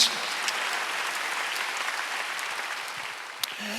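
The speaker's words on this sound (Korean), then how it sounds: "박수 한번 드렸어요" A church congregation at a Wednesday worship service applauds steadily for a few seconds, a dense, even patter of many hands filling the room.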